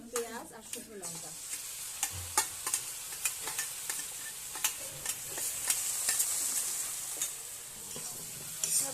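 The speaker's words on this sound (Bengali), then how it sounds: "ভালোভাবে কষিয়ে নেব।" A paste of ground cumin, ginger, garlic, onion and dried chili fries with browned onions under a continuous soft sizzle, punctuated by regular sharp spoon strikes against the pan roughly every half second.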